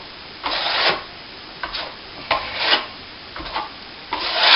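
Several short strokes of light sanding on a plaster patch in a plasterboard wall, each a soft scratchy sweep with brief pauses between, close up.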